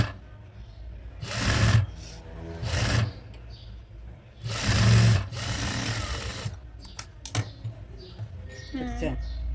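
A sewing machine stitching pleats on a frock nighty, running in several loud, rapid bursts with pauses between, while someone talks over and between the runs.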